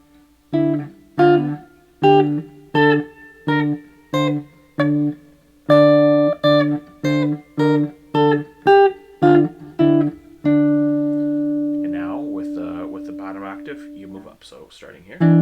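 An electric guitar climbs a scale in plucked notes, each one struck together with a repeated held bass note in a steady rhythm, ending on a longer sustained note and brief noise.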